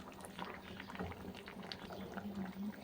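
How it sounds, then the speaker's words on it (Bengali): Fish curry broth with vegetables and boiled potatoes bubbles steadily in a pot, a soft, continuous simmering burble with no talking. "এই দেখো ঝোলটা ফুটে গেছে"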